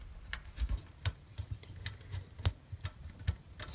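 A car boost controller being turned up by hand makes a series of small, crisp clicks, irregular and close, each a sharp tick over quiet background rustle, around nine in under four seconds.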